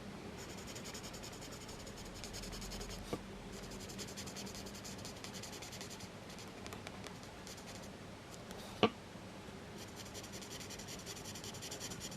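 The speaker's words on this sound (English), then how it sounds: "To be honest, I colour with these pens really a lot." Felt-tip pens scratching and rubbing across paper while colouring a mandala, a continuous soft scribbling texture with a couple of small knocks on the desk, no talking.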